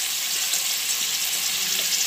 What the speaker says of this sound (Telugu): ఆయిల్ అనేది వేడెక్కాక మనము కాళ్ళు అయితే ఇలా ఈ విధంగా వేసేసుకుంటున్నాము.